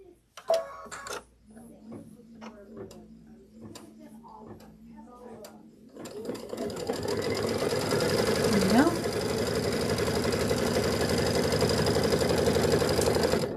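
Sewing machine running a quilt block seam, starting after a few quiet handling clicks and then whirring continuously and steadily up close, with a voice heard early on.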